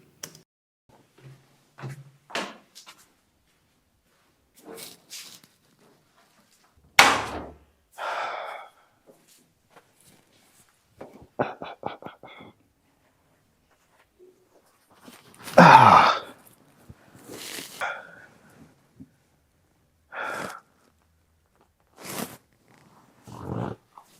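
A mattress on a bed creaks, caught raw by microphones placed near the bed: scattered, irregular creaks and rustling bursts, some loud and harsh, separated by stretches of near silence.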